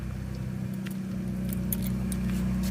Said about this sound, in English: we actually have exhaust coming out our tailpipe